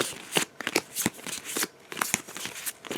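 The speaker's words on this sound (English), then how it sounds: "So I just shuffled the heck out of this." A deck of Pathfinder Adventure Card Game cards is shuffled close up in a series of quick riffling bursts, several crisp flutters separated by short pauses.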